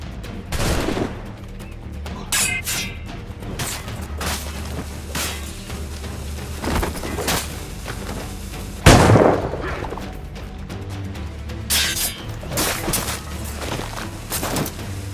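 Gunfire in the pirate-era game Assassin's Creed Black Flag crackles as scattered sharp shots and one heavy blast, set over a steady background din of battle noise, with no voices.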